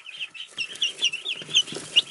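Week-and-a-half-old chicks kept alongside ducklings under brooder lights peep in a steady run of high, close chirps mixed with soft clucks, with no talking.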